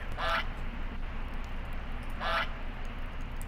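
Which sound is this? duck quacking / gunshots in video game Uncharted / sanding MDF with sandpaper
duck quacking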